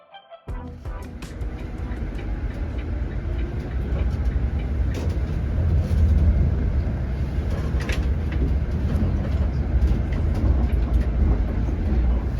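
Replacement bus standing in for a South Shore Line train, heard from inside as a steady loud rumble of engine and road noise with rattles and knocks over a bumpy, twisty ride, after a brief quieter opening.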